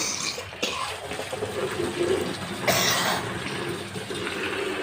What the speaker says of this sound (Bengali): কাঁঠালের বিচিগুলো আমি এখন ধুয়ে নিলাম